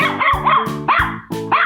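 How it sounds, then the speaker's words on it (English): A dog barks in a 3D animal slide video game, a run of four or five loud, close, evenly spaced barks with a yipping edge. "Dog."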